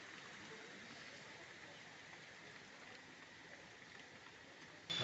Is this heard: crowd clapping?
no